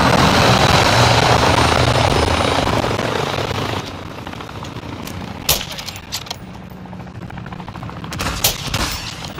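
A helicopter in the Modern Warfare 2 video game roars loudly and steadily with gunfire mixed in, then fades to a lower rumble punctuated by sharp shots and impacts.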